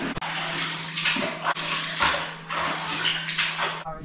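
Shower water running in a travel bathroom in Jamaica, a close, continuous hiss of spray with brief interruptions and a faint low hum underneath.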